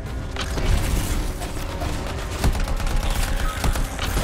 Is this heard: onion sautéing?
no